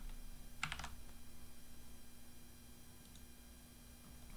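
A quick burst of keystrokes on a computer keyboard, a few soft clicks close together near the start, then only quiet room hum.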